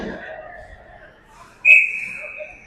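A referee's whistle in an under-18 ice hockey provincial game, Pirates versus CB West, gives one sharp, loud, sustained shrill blast that fades out after a stretch of quieter arena sound and commentary-like talk.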